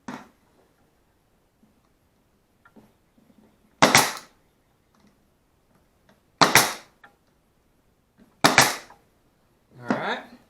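A nail gun fires nails into a wooden bluebird house, giving four sharp, loud pops spaced a couple of seconds apart, with quiet handling between shots and no talk.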